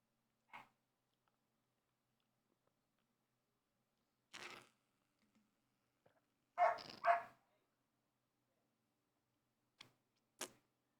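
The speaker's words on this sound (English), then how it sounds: "Can you hear the dog?" A dog barks in the background, several short, faint, separate barks spread out, with a louder double bark in the middle, against near silence.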